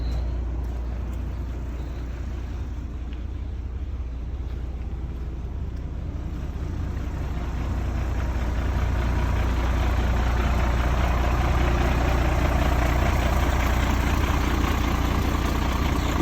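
A 1991 International 4900 dump truck idles in a steady low rumble for the whole stretch, growing slightly fuller about halfway through as the dump box is lowered, with no voices over it.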